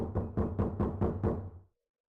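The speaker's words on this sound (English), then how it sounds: "Someone was pounding on something vigorously. It wasn't mechanical. It was certainly human." About six steady, heavy knocks pound on something in the video game Zero Escape: 9 Hours, 9 Persons, 9 Doors. The even rhythm is followed by a brief fading tail and then silence.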